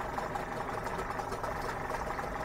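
A Mercury 15HP two-stroke outboard motor running steadily at a constant idle, a continuous droning hum heard close up with no talk over it.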